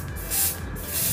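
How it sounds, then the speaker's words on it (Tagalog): Hairspray is sprayed onto eyebrows, two short hissing aerosol bursts close to the microphone, set against steady low background noise. "try natin gumamit ng spray net kung effective ba siya"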